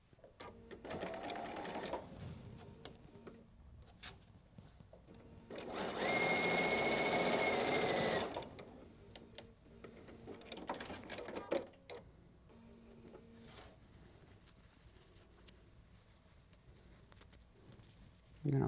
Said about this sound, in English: I'm just going to go sew. Yeah, I'm not going to use any pins whatsoever.